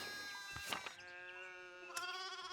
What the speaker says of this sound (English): It's mostly just sheep bleating.